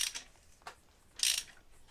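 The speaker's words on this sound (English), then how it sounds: "I'll get you to grab a torque wrench there." A torque wrench tightens ARP roller rocker studs on a Chevy 454 in a Holden HT GTS Monaro. Three quiet ratcheting clicks come close by, with a brief pause between them and no talking.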